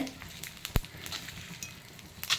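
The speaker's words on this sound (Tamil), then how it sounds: "கடுகு மஞ்சப்பொடி போட்டுட்டு உளுத்தம்பருப்பு, நம்ம புளிக்காய்ச்சலுக்கு தாளித்து கொட்டுற மாதிரி உளுத்தம்பருப்பு, கடலைப்பருப்பு" Mustard seeds, turmeric, urad dal and chana dal fry in hot oil for a puliyodharai tempering, a quiet close sizzle broken by sharp crackles and pops, one louder snap near the middle, with no talk.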